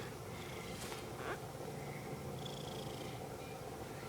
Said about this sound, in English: she's purring right now